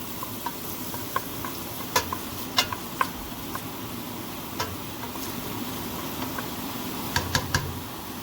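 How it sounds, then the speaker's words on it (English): One small diced onion sautés in three tablespoons of grapeseed oil with a continuous close sizzle, broken by frequent sharp scrapes and clicks of stirring. "So we're gonna saute our diced onion."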